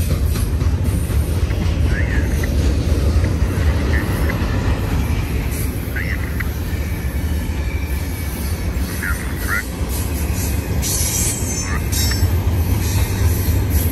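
BNSF intermodal train moving eastbound at Rana, California, hauling international shipping containers in deep well wagons, rolls past close by with a steady loud rumble and faint wheel squeals throughout.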